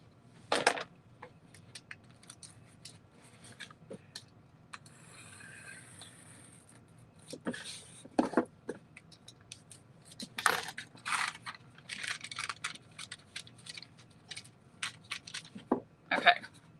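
Scissors or a craft blade trim excess material from a handmade vintage Valentine's Day lunch box in scattered short snips and scrapes, close and fairly quiet, with a long soft rustle partway through.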